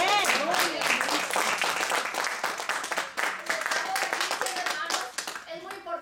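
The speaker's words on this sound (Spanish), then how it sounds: "Un aplauso para el Señor." A church congregation claps for the Lord during a Spanish-language service, a dense sustained burst of many hands with voices and cheers mixed in throughout.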